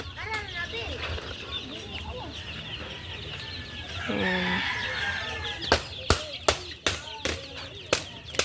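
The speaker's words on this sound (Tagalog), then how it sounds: "Sobrang daming mga manok." A crowd of hens on an egg farm clucks and chatters continuously, with a rooster crowing in the middle and sharp knocks and clatters near the end, while a person speaks briefly.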